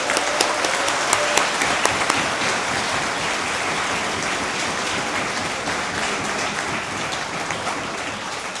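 An audience at a senator's Friday breakfast event gives a sustained round of applause, a dense, even patter of many hands that carries on steadily without speech.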